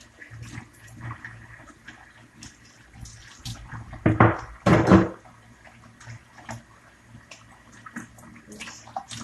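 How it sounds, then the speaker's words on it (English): Water from a tap runs briefly while tools are rinsed, two short splashing gushes close by in the middle, set against quiet background handling noise with no talk. "Wash off my tools here that I used."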